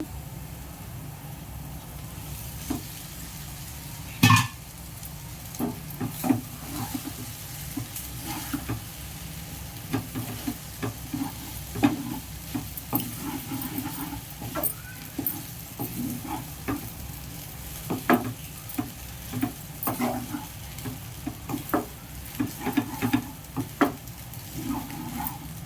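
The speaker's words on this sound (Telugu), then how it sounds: "ఎగ్ అంతా వేగాక ఇప్పుడు అన్నం వేసేసుకుందాం." Rice frying with cooked egg in a pan gives a low, steady sizzle under repeated scraping and tapping stirs that come and go, close by, with no talk.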